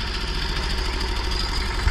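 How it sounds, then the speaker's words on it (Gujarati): A tractor engine idles on a farm field with a steady, close, low rumble and a faint knocking vibration throughout, and no voices. "ટ્રેક્ટર આવે પાછળ."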